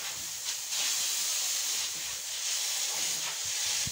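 A pressure cooker on the stove vents a continuous airy hiss of steam, moderately quiet, with a few brief surges in strength and no talking.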